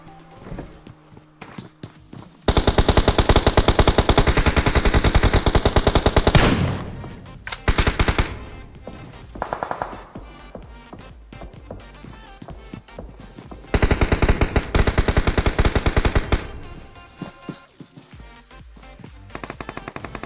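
Rapid automatic gunfire in a battle royale video game tournament match, loud sustained bursts of several seconds separated by quieter stretches with scattered single shots and footsteps.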